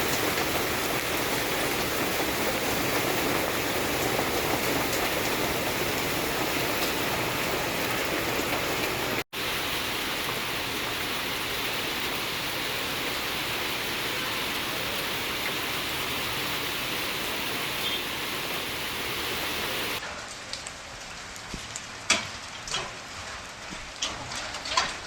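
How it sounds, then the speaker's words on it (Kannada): Heavy rain with hail pours down in a village in Humnabad taluk, Bidar district, as a loud, steady, dense roar that runs for about twenty seconds. It then gives way to quieter dripping with scattered sharp taps. "ಇವತ್ತು ಒಂದು ಬರ್ಫಿನ ಮಳೆನೇ ಬೀಳ್ತಾ ಇದೆ"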